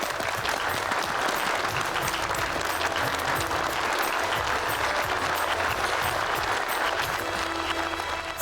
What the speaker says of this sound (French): Alors applaudissez et accueillez le gagnant d'aujourd'hui